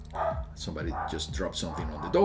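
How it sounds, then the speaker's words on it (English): A pet dog barks and yips in a quick series of sharp, close barks while someone talks over it. "And that's my dog."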